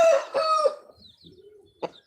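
A fighting rooster crows close by with a loud, harsh call, followed by a quieter drawn-out note and one short sharp cry at the end.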